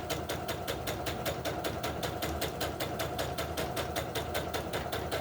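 A sewing machine runs steadily, stitching a 20-inch doll dress from vintage Cranston fabric with a rapid, even needle rhythm throughout, fairly close and unaccompanied by talk.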